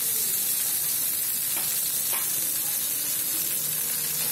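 Onion, curry leaves and green chili sizzle steadily in hot oil, a dense continuous frying hiss with a couple of brief crackles, close and alone without talk.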